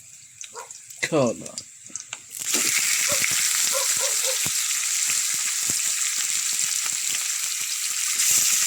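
Chicken gizzards (batikola) drop into a hot pan and burst into a loud, steady sizzle that holds to the end, following a few seconds of scattered kitchen clatter.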